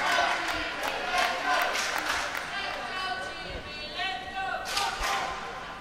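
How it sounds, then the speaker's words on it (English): Crowd at a para table tennis championship match cheering and shouting steadily after a rally, with a commentator talking over the noise and a burst of cheering near the end. "and the crowd loves it too"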